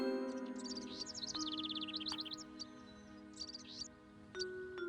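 Video game birds chirp and tweet in quick repeated clusters, high and busy, over a steady sustained tone in the background, continuing alone without any voices.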